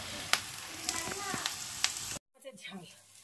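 Food frying and spattering in hot oil in a home kitchen, with a steady crackling sizzle and scattered sharp pops that cut off abruptly, followed by fainter, quieter sizzling.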